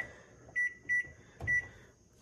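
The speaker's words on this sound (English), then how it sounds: "I'm trying to set the timer." An oven timer gives three short, clear electronic beeps while it is being set, spaced apart over a quiet kitchen, with a soft knock between the second and third.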